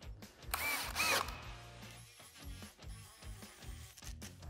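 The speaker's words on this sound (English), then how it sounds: "let's drill a pilot hole, the biggest pilot hole we can for our drill." A power drill with a dull spade bit whirs and grinds through wood drilling a pilot hole in uneven bursts, a loud bit chewing with rattling, ratchet-like churning throughout.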